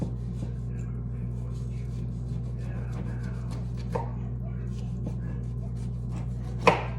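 A knife works through a whole Costco beef rib over a steady background hum, with quiet scraping and two sharper knocks from the blade against the board, the second louder.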